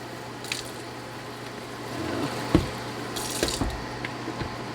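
Water runs softly from a tap with a few splashes and knocks of dishes in a sink, close by and fairly quiet.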